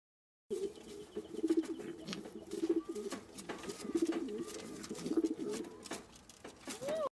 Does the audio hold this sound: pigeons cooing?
yes